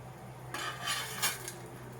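Onions frying for Thalassery chicken dum biryani are stirred in a pan, with a couple of short metallic scraping strokes over a faint, steady background hiss, close and fairly quiet.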